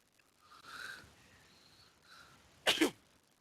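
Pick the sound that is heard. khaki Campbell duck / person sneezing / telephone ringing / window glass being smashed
person sneezing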